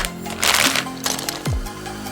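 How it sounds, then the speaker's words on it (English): Small plastic bags holding LEGO pieces are torn and crinkled open close up, with bursts of rustling crinkle and a brief sharp tearing sound, no talking. "Hope you like opening tiny plastic bags."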